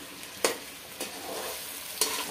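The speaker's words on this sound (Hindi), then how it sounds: "हम इसे चला चला कर फ्राई करते रहेंगे" Potatoes sizzle steadily as they fry in a pan, close and clear, with a few sharp scrapes of a spoon stirring them at irregular moments.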